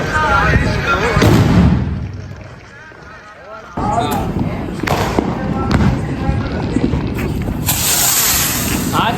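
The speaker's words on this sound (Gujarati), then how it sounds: "હમણાં ફટાકડા ફૂટતા છે" Firecrackers burst during Diwali celebrations in a Gujarati village, several sharp, loud cracks and booming bursts spaced a few seconds apart, with people talking over and between them.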